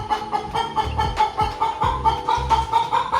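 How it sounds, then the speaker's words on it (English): A chicken clucks repeatedly in a workshop beside a Yamaha PW80 motorcycle under repair, with choppy clucks and squawks close to the microphone over a steady mid-pitched hum. "Excuse the chicken."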